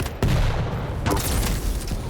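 Railgun and weapon fire in a Quake-style arena shooter duel, a sharp loud blast near the start followed by further bursts and a second crack about a second later, dense and close.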